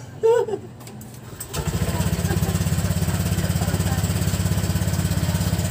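A Honda Click 125 version 3 scooter engine starts after a few rough sounds, then settles into a steady, close, even putter that holds unchanged to the end.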